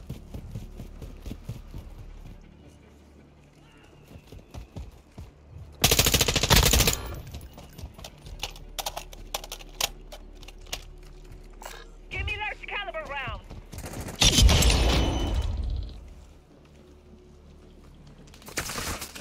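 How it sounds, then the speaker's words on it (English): Bursts of automatic gunfire in Call of Duty Warzone 2.0, with loud dense volleys around six and fourteen seconds and scattered shots between, mixed with game radio chatter. "Taking effective fire."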